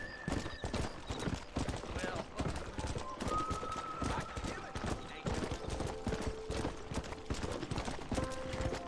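Galloping horse hooves in the Red Dead Redemption video game, a steady rapid clip-clop throughout, loud and near, with someone talking over the rhythm and some game music tones in the background.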